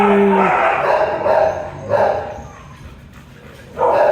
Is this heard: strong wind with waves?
no